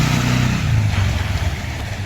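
Motorcycle taxis (boda bodas) pass on a quiet residential street in Bugolobi, Kampala, a steady, loud engine drone and rumble with a revving rise, close by and without talk.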